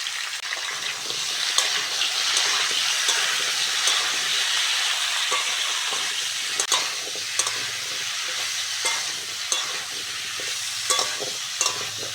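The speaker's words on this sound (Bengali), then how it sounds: "লবণ হলুদ দিয়ে ওলটাকে ভালো করে ভেজে নিয়েছি" Chunks of elephant foot yam frying in hot oil with salt and turmeric, a steady close sizzle with occasional stirring scrapes and clinks throughout.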